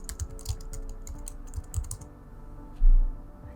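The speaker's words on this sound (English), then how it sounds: "I can just type in" Quick, close keystrokes rattle across a computer keyboard in a brisk run, then thin out into a few isolated taps followed by a soft thump.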